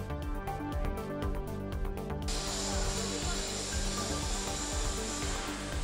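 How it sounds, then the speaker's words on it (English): Torch welding on a Shinkansen nose panel during AR training: a few light ticking clicks, then a steady broadband hiss that holds on evenly and close. "Once that's confirmed, the welding starts."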